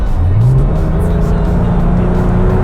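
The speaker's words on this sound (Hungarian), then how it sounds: "3-szor megnyomtam a gázpedált, ilyenkor már tartja fent, hogy fent maradjon a fordulat" Porsche 996 911 with a 3.4-litre 300 hp flat-six, revved with three quick throttle blips, the engine note rising sharply then holding at raised idle, loud and close throughout.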